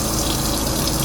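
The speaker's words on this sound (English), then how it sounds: "now, I'll be going to rinse my hands with water" Running tap water gushes steadily over hands being rinsed during a hand-washing demonstration, a loud continuous splashing with no pauses or speech.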